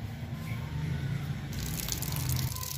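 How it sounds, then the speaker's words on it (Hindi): Water poured onto newly planted young orange seedlings in garden soil, a steady close trickle and splash that runs throughout, growing a little brighter and fuller midway. "जो अभी मैंने प्लांट लगाए हैं उनको जो है वो थोड़ा सा पानी लगाना पड़ेगा"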